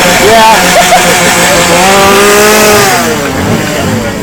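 A chainsaw engine drones loud and close throughout, its pitch wavering up and down as it revs, with a voice talking over it at times.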